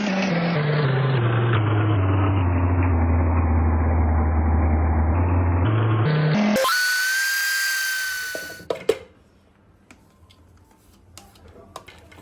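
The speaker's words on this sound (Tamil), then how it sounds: "இப்போ நான் இதை மிக்சியில் போட்டுட்டு பவுடர் பண்ணி" A kitchen mixer grinder grinds dried banana into powder for baby food. Its motor whirs loudly and steadily, with the pitch rising as it runs, then winds down to near silence, followed by a few faint clinks.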